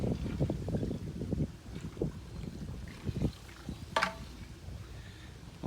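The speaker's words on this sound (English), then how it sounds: "the wind we've got here, which can be rather" Gusts of strong wind buffet an outdoor garden, rumbling low and uneven across the microphone in bursts, with a brief sharp rustle near the middle.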